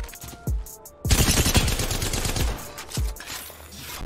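Video game gunfire: a few single shots, then a sharp burst of rapid fire with close, punchy reports and booming low thumps, loud and without talk.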